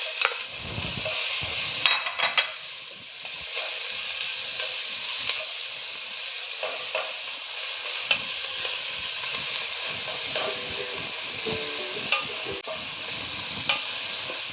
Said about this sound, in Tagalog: At igigisa ko na yung ating garlic. Next ko kagad yung ating onions and yung ating white part ng ating